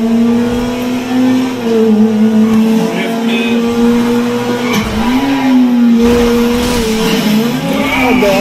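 A car in a Nitho Drive Pro V16 mobile racing game revs and drifts, its engine tone rising and falling with tire squeals, loud and near throughout.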